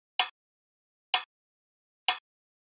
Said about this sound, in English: They're basically this rim shot,